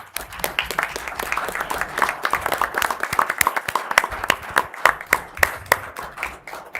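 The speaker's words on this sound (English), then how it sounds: "So if we could just one more time, like a round of applause for all of them." A township meeting audience gives a round of applause for the fire department and EMS, a sustained patter of many hands clapping in a moderately sized room, with sharper individual claps standing out near the end.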